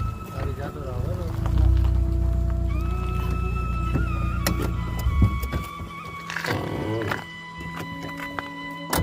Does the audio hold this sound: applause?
no